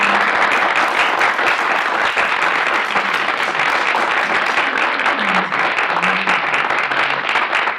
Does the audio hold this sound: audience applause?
yes